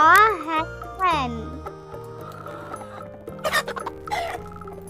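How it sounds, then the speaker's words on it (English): A hen clucks and squawks near the start, followed by rising and falling cackles over a bright jingling children's tune, with a voice speaking across the later part. "This is a hen."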